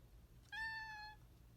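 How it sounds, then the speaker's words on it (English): A single drawn-out meow from a house cat in a quiet knitting shop, faint and fairly close, with a low background hum and no talking. "It's a good kitty"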